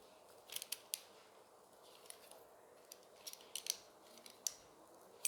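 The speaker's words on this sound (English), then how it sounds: "Then go in with our scissors." Scissors snipping paper for a cake topper, with a series of short, crisp cuts close up, some in quick pairs, separated by quiet gaps.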